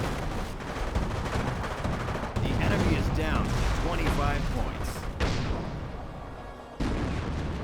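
Artillery barrage in the World War II strategy game Company of Heroes, with repeated booming impacts and gunfire rolling through a dense, loud battle mix, a commentator's voice running over the top.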